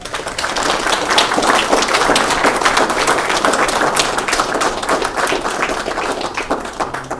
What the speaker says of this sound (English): You heard people clap